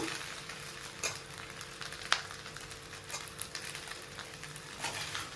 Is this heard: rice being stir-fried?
yes